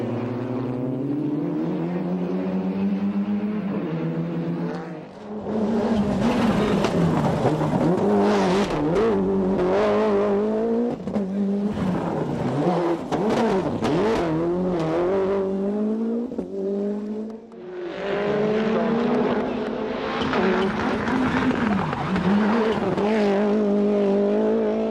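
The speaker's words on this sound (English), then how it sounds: "暴れるマシンを必死にコントロールする隙をついてカストロールとのスープラがインに飛び込み順位は逆転" Race cars, among them the Castrol Tom's Supra, scream past at full throttle during a race, with engines revving and shifting up and down. Several loud passes come in waves, separated by brief dips in sound.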